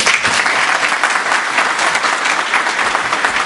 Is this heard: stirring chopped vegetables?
no